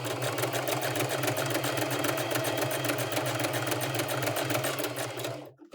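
A sewing machine stitching free-hand embroidery on stiff, loose-weave fabric runs at a fast steady rhythm, rapid close needle strokes humming for several seconds before stopping abruptly, with no voices.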